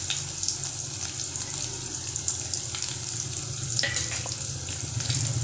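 Chopped onion frying in a pan for a raw banana and potato kootu, giving a steady, close, even sizzle and crackle throughout with a few sharper spits.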